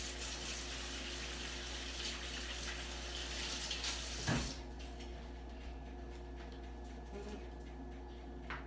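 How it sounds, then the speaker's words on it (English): Water runs steadily from a tap as someone washes their hands, a continuous close rushing splash that stops abruptly partway through, leaving a quiet room with faint household sounds. "Let me wash my hands off and taste some."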